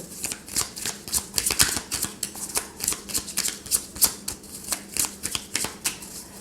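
Tarot cards shuffled by hand during a reading, a close, crisp run of rapid riffling flutters and soft slaps in an uneven rhythm, with no voices.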